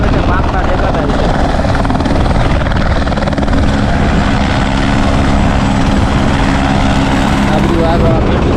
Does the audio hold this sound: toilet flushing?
no